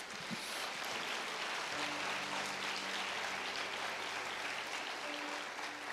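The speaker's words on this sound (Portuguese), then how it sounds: "aplauda ao Senhor Jesus bem forte" A church congregation claps to the Lord during a Portuguese-language service, producing a continuous, even spread of applause at moderate level, with soft sustained keyboard tones running underneath.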